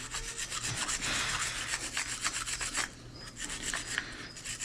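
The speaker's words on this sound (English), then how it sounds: "Now we're gonna go and clean off this bracket a bit" A brake caliper bracket on an Infiniti M37X being scrubbed clean, with a continuous close rasping and rubbing in back-and-forth strokes, briefly pausing then resuming.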